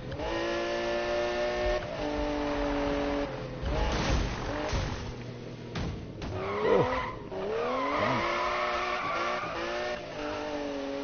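Car drifting in the Need for Speed Rivals video game: a revving engine whines and shifts pitch while repeated tire squeals and skids rise and fall over the run, loud and close.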